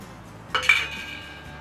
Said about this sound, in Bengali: এবারে বড়াগুলো দিয়ে দিচ্ছি